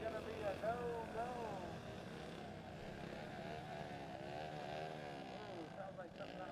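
The number 10 race car's engine revs at the start of a race at Exit 7 Motorsports Park. It is a loud, continuous droning roar whose pitch wavers up and down throughout.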